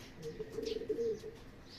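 Racing pigeons returning home from a training flight, with soft low cooing repeated through the middle of the moment, moderately near and fairly quiet over faint background noise.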